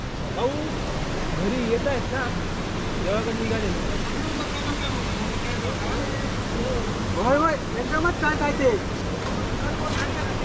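A strong flow of water pours over a dam, a loud continuous rushing roar with wind buffeting the microphone, and someone talks over it throughout.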